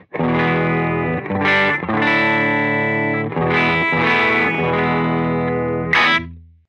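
Distorted electric guitar from a Gibson Custom Shop ES-339, played through a Spaceman Apollo VII drive pedal into a Dr. Z Carmen Ghia amp: a handful of loud, sustained gritty chords and notes, each ringing out before the next, ending on a decaying tail.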